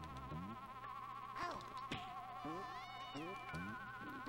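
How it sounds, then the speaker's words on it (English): Mosquitoes buzz in a steady whining drone in the Sega Genesis game The Ren and Stimpy Show Presents: Stimpy's Invention, with bouncy chiptune game sounds and blips over the top, fairly quiet overall. "Gosh dang mosquitoes."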